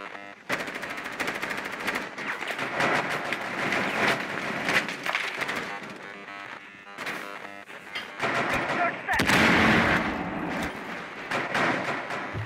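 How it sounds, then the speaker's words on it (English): Rapid bursts of gunfire in Rainbow Six Siege, shots fired through a hatch down into a chalet basement, loud and dense automatic fire with crashing impacts, continuing throughout with little pause. "Someone basically shooting through a hatch."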